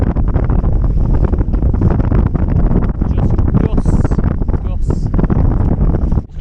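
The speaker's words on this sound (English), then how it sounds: "Sailing as close to the wind as I can possibly get." Wind on a sailboat sailing close-hauled in choppy water makes loud, continuous rumbling gusts that buffet the microphone, with faint water and boat sounds underneath.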